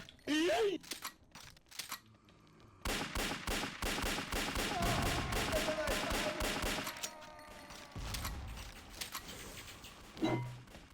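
Rapid bursts of gunfire and explosions crackle loudly and continuously in the online shooter game Xshot, mummy mode, with excited shouting voices over the shooting throughout.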